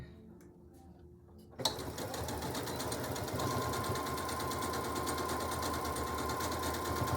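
A sewing machine starts up and runs steadily, stitching a quilt square with a continuous close, rapid mechanical chatter after a brief quiet moment of handling at the start.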